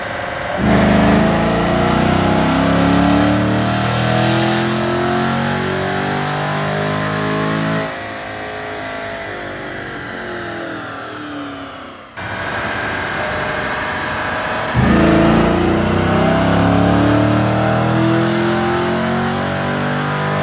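Loud Chevrolet Camaro SS LT1 V8 with headers, catback exhaust and tune revs climbing steadily through high rpm on a dyno, drops, then climbs again in a second long pull, with the dyno roller's drone throughout.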